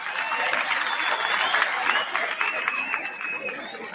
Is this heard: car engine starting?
no